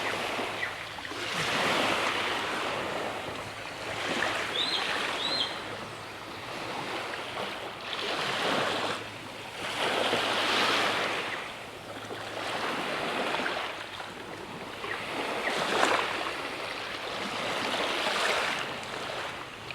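Surf rolls onto a tropical beach, with waves surging and receding in a slow, regular rhythm of rushing swells. Wind brushes against the microphone, and no voices are heard.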